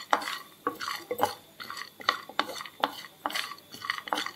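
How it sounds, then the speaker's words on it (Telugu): Lentils and cumin seeds being stirred as they fry in a pan for a brinjal curry, a spoon scraping the pan in repeated, evenly spaced strokes, fairly close, with no talking. "ఇలా కలుపుతూ ఉండాలి, లేదంటే మాడిపోతాయి పప్పులు"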